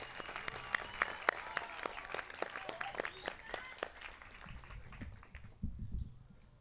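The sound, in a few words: applause for graduation valedictorians and salutatorians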